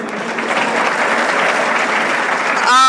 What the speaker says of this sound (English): And the vice chancellor, you deserve to be clapped for, right?